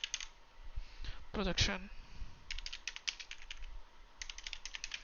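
Typing on a computer keyboard into the Windows 10 search bar, a quick burst of light key clicks after a brief spoken word, then two short runs of close, crisp tapping under faint room tone.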